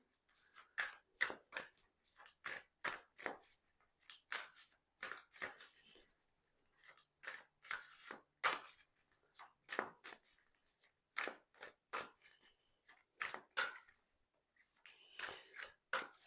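Rapid bursts of large tarot card shuffling, riffles and slaps repeating in quick clusters with short pauses, close and crisp, no talking.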